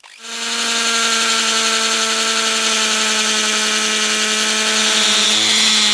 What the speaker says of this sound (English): we can test the drill using the old drill bit that came with it.